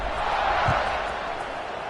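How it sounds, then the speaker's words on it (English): Buzzing crowd at an American college football game between LSU and Syracuse, a dense roar of many voices filling the stadium, steady and moderately loud, with a brief thump partway through. "this crowd is buzzing after that last score"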